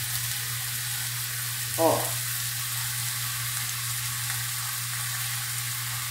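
Noodles added to vegetables in a frying pan for an oriental-style dish sizzle steadily, with one brief clatter of stirring partway through; a voice makes a short exclamation.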